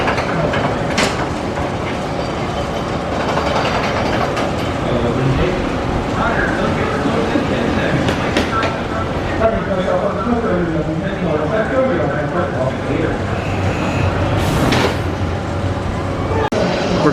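A roller coaster train at Six Flags Over Texas rattles and clacks along its track in a steady rumbling run, loud and fairly close, amid park crowd noise and talking.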